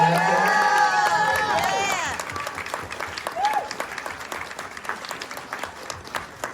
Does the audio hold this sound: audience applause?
yes